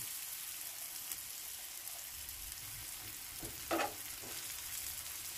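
Ivy gourd (tondekai) frying in a pan makes a faint, even sizzle, with one short stir or scrape standing out partway through. The sound is quiet and steady.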